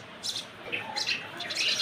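Several birds chirp and tweet in short, moderately near bursts during an early morning outdoors, with light background noise.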